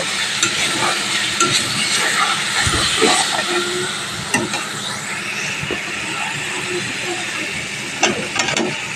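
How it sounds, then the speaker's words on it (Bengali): Potatoes fry in oily spice paste for Reetha fish kosha, with a loud, continuous sizzle broken by repeated scraping and stirring strokes in the pan. "এবার এখানে আলুগুলো দিয়ে আরও দু মিনিট মতো কষিয়ে নেব"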